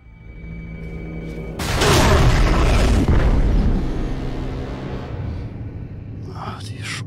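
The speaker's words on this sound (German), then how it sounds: "Den Tunnel sprengen!" A tunnel blown up in BioShock 2, one huge explosion erupting after a quiet hum and rolling into a long, loud rumble that slowly fades, with debris clatter near the end.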